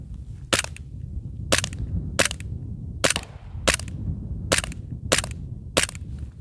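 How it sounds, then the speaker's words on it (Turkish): A Canik handgun without a red dot sight fires eight sharp, loud pistol shots outdoors at a steady, unhurried pace, each followed by a short echo. "toplam 8 tane atış yapmıştım"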